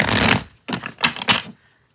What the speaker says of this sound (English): I'm going to do this Moonology cards here. If I can shuffle them.